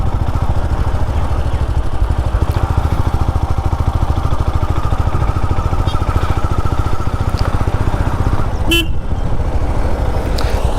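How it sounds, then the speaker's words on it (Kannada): A motor vehicle engine runs steadily and close, a constant buzzing drone, with a single short horn toot near the end. "ನೋಡಿ ನನ್ನ ಗಾಡಿ ಸೌಂಡ್ ಕೇಳದ ತಕ್ಷಣ ನೋಡ್ತಾರೆ"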